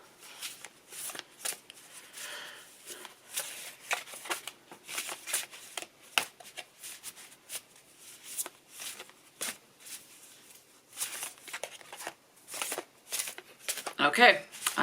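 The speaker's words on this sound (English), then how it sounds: "So I'm going to flip these over and let's do a little shuffle-uffle." A deck of cards shuffled by hand in bursts of quick riffling and flicking, close but fairly quiet, with someone talking at times.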